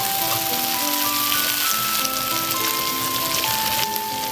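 Meat sizzles steadily in a hot pan while salt is added for slow-fried kosha mangsho, a dense continuous frying hiss filling the clip with faint tonal hum underneath and no talk.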